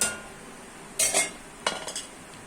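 A lid is set onto a pan of cassava stir-fry, two short metallic clinks a moment apart, close by in an otherwise quiet kitchen.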